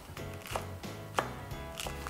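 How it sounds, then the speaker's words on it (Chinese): A knife chops cabbage into shreds on a cutting board, giving a quick run of about seven crisp, close knocks at an uneven rhythm, with no talking. "我们要切成这个高丽菜丝"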